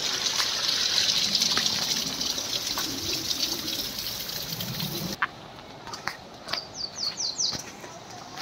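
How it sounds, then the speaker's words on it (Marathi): A small waterfall on a muddy forest path makes a steady rushing, trickling hiss for several seconds. It then cuts to a quieter outdoor scene with brief bird chirps. "रस्त्यामध्ये छोटासा वॉटरफॉल लागले"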